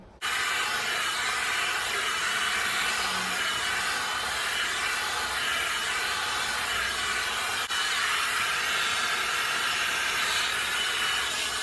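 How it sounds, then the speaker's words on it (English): A steady, loud rushing whoosh of a hair dryer blowing continuously on wet hair, broadband and unbroken throughout. "this blow dryer is mad popping"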